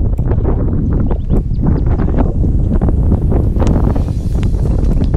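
Strong wind buffets the microphone at night with a loud, constant low roar and gusty rumbling, with faint rattling and clicks scattered through it.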